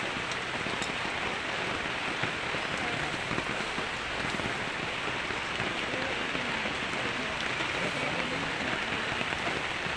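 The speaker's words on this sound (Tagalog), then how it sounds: "Ay pagibunda kang ulan." Heavy rain pours down steadily in an evening storm, a dense, even hiss of drops on surfaces that stays loud and constant throughout without a break.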